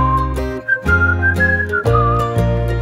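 Tuneful whistling of a melody over a musical accompaniment with bass and chords, a few sustained whistled notes rising and falling, clear and close.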